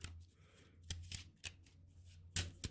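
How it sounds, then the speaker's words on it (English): Playing cards being shuffled by hand at a tarot reading, a string of soft riffling and snapping bursts with a few sharper slaps, close and fairly quiet over a low steady hum. "I'm just going to shuffle these playing cards and just kind of see what comes up"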